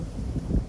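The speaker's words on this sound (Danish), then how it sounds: "Sorry, hvis det blæser lidt." Wind buffets a microphone outdoors, producing a low, rumbling blustery roar that rises and falls in brief gusts, close and fairly loud, with no voices.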